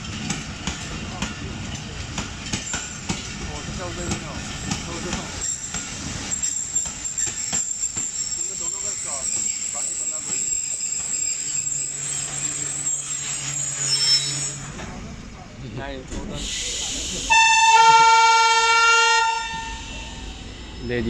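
The Hazara Express passenger train rolls into a Pakistani railway station with steady rumbling and clanking, then a loud horn sounds near the end over the station din.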